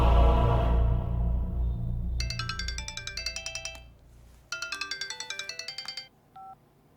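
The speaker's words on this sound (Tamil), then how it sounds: "அவனுக்கு போன போடு போடு. ஸ்பீக்கர்ல போடு." A mobile phone rings on speaker in a Tamil action film: a bright, repeating electronic ringtone plays in rapid pulsing bursts over a low rumble, loud and close, then cuts off abruptly.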